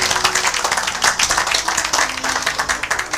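A church congregation applauds and claps together in praise, a dense, steady burst of many hands filling the room without pause for a few seconds.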